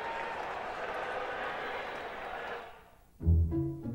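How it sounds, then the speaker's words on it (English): A football stadium crowd roars and cheers after a Redskins touchdown at a 1993 Phoenix at Washington game, a broad steady wash of noise that fades out before a voice begins to speak. "the crowd came alive after that last touchdown"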